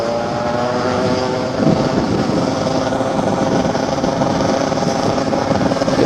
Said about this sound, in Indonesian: kita ikutin motor 2 tak ini ya